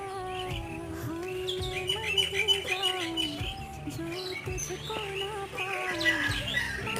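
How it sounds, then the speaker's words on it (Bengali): Birds chirp and sing in a calm, peaceful outdoor setting, with repeated bright calls at moderate distance over a continuous tonal background. "সুন্দর শান্ত পরিবেশে পাখিদের কিচিরমিচির গান"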